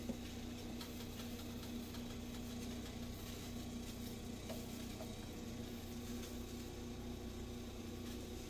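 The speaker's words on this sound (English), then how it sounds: "put a dry saute on the mushrooms. And I'm using white mushrooms." White mushrooms dry sautéing in a pan without oil, a faint, steady sizzle and soft crackle running continuously with a low hum beneath.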